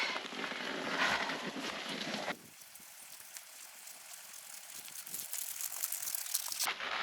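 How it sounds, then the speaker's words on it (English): Rain falls on an off-grid homestead as a steady broadband hiss, loud at first and then dropping to a softer patter before swelling again. "it's raining, so it's cooling me down as I'm heating up"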